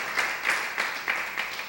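A church congregation applauds during a sermon, a steady patter of many hands clapping in loose waves, fairly close and moderately loud, with no voices over it.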